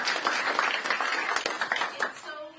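A crowd at a political campaign event claps briefly, a short burst of applause that is dense at first and then thins out, with a voice rising over the end.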